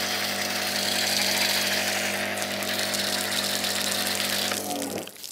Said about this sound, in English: when I press the trigger, this head rotates